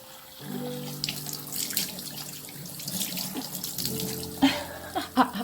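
Hands rinsed under a running tap at a sink, steady splashing water with a few louder splats and drips near the end, close and fairly loud.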